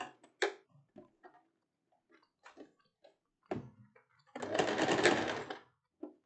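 Sewing machine stitching a dress with a thigh slit, starting and stopping in short bursts of clicks before one sustained close run of steady whirring stitching near the end.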